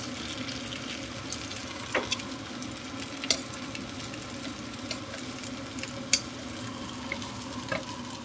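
Eggplant for tortang talong frying in a shallow layer of oil, giving a steady close hiss and crackle with a few sharper pops scattered throughout.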